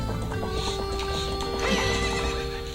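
A horse in the video game The Legend of Zelda: Ocarina of Time neighs loudly over galloping clip-clop hooves and game music, a sustained whinny rising near the middle before fading slightly.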